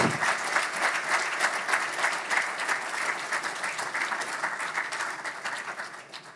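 At a student of the year awards ceremony, a large audience claps in sustained, even applause that holds for several seconds and gradually tapers toward the end, with no voices over it.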